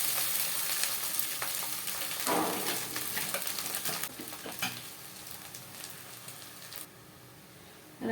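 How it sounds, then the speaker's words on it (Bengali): Rice stirred gently in a hot pan while frying for jeera rice, a dense crackling sizzle with soft scraping stirs, fading quieter near the end. "রাইসটাকে হালকা করে নেড়ে নিচ্ছি।"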